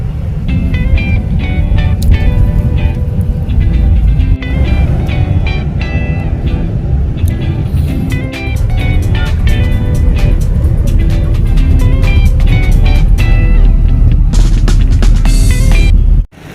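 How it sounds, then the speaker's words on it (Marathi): A car drives along a road in the Konkan countryside, heading for a village wedding. Loud, continuous engine and road rumble fills the whole stretch, with a brief dip midway and a sudden drop at the very end. "इथून आता गाडी आपली लेफ्ट करून जाणार सांगपाड्याला"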